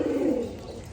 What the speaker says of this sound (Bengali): সকালে এসে কবুতরগুলো ছাড়লাম।